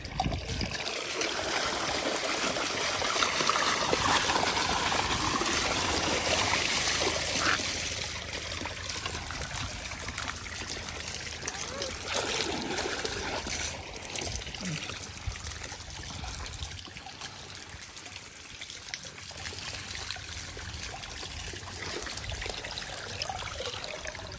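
Irrigation water released onto a mango farm in a village trickles and gurgles steadily, a soft continuous flow with faint background noise and occasional distant voices.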